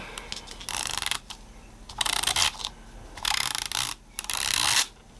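A soda-bottle-shaped correction tape toy rolls in bursts of rapid ratcheting clicks, several runs of gear-like clatter separated by brief pauses, close and clear with no talking.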